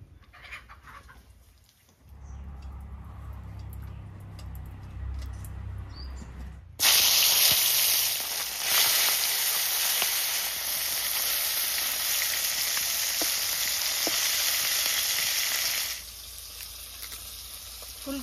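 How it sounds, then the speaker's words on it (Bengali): Fish hits hot mustard oil in a wok and bursts into loud, steady sizzling and spattering frying that holds for several seconds before easing, after a quieter lead-in. "মাছ ভাজার জন্য কড়াইতে সর্ষের তেল দিয়ে দিচ্ছি।"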